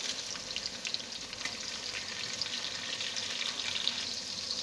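Whole spices (cumin, cloves, cardamom and cinnamon) sizzle steadily in hot oil with a dense, continuous crackle, close and fairly quiet, with no talking.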